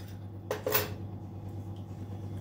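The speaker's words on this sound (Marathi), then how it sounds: "मी नीट मिक्स करते" A spoon clinks against a small dish while stirring rose essence with a teaspoon of sugar, giving one bright ringing scrape over a steady low hum, close and brief.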